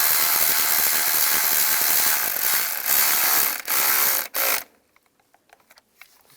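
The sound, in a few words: ratchet tightening bolt on Chevrolet Trailblazer engine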